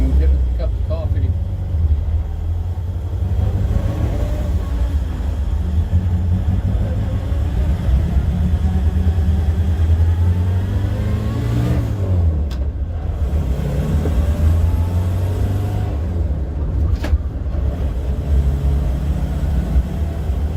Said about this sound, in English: here's our first test drive with the supercharger